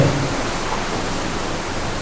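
Rain pours down steadily in a dense, even hiss with no talk, holding constant throughout.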